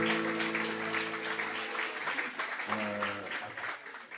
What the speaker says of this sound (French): On peut déjà applaudir Abdelkader.